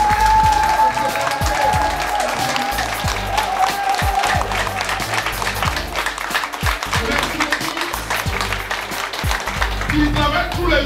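An audience at an inauguration ceremony applauds continuously, dense hand-clapping filling the hall throughout, with voices mixed in under the clapping.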